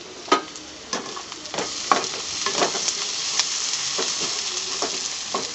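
Sliced onions frying in a pan for kothu chapati, a steady soft sizzle with periodic scraping stirs of the spatula, close and moderately quiet with no talking.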